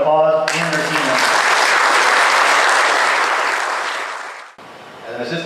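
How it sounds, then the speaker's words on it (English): Loud, close applause erupts for fire department special operations team members at an open house, a dense burst of clapping that swells, then cuts off as a voice resumes speaking; a voice is also heard just before the clapping. "Let's give all these members a round of applause and their team members."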